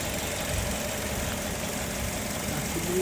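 A 2014 Toyota Vitz with a 1.3-litre engine idles with a steady, even hum and faint mechanical vibration, with no talking.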